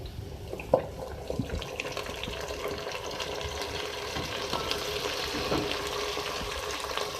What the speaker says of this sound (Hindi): इसमें मैं ऐड कर रही हूँ गोश्त